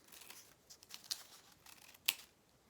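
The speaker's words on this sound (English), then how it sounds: "by the time you're finished cutting up your crepe paper" Scissors snipping crepe paper into ribbons for a kids' jellyfish craft; faint, quiet crisp cuts and rustles, with a couple of sharper snips standing out near the end.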